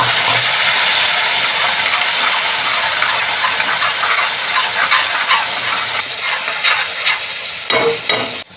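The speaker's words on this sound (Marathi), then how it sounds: "आता आपण हिरवं वाटण करून घेतलं आहे ते आता आपण फोडणी घालूया." Green masala paste sizzles loudly in hot oil for tempering a mutton kheema dish, a dense, steady hiss with spoon-stirring scrapes toward the end.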